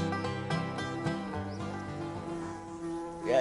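Buzzing bees in a Vietnamese cartoon fairy tale, a steady droning hum heard over a layered musical background, moderately loud and continuous with no talking.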